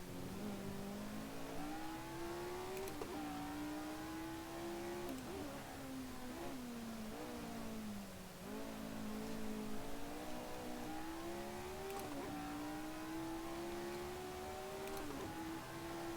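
A Lotus 49 race car engine in a racing video game, racing at the Nürburgring, drones continuously, rising and falling in pitch as it revs through gear changes over a long stretch.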